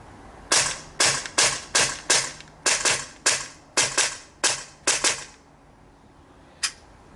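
An HK USP CO2 pistol fires about a dozen sharp, loud shots in quick succession at a steady, rapid rhythm. A single fainter click follows after a brief pause.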